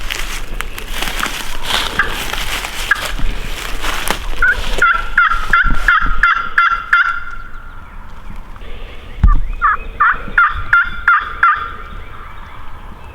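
Wild turkeys gobble during an opening-day turkey hunt in Georgia, several rattling gobbles in quick bursts, fairly close and loud, with one run in the middle and another near the end over rustling outdoor ambience and no speech.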